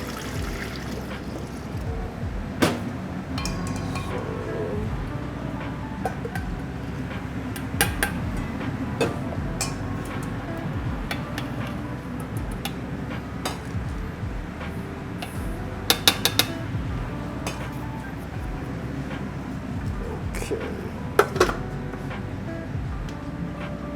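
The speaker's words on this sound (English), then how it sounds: "We just need to pour all of the ingredients into the Thermomix blender." Ingredients pour into a Thermomix blender with a steady trickle, punctuated by occasional clinks of utensils and dishes nearby.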